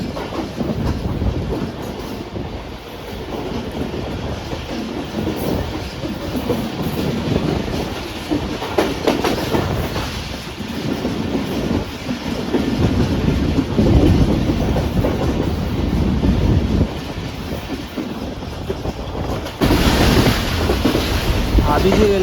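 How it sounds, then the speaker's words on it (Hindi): A Pak Business Express (33UP) train on the Karachi to Lahore line roars through a railway station at high speed, with a loud, steady rumble and rattling clatter of wheels and carriages that lasts throughout and has no voices. "अभी जी रेलवे स्टेशन से हमारी ट्रेन गुजर रही है ज़बरदस्त रफ्तार में।"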